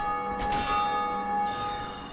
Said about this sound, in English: Somebody else ringing the bell.